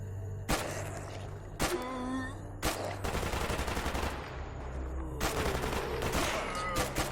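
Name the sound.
gunfire at zombies in the video game STALKER Anomaly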